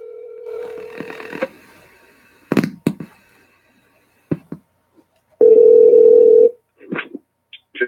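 A telephone call goes out, with a steady dial tone, a string of short button tones, then a long ringing tone followed by a few brief beeps, clear and close with no talk.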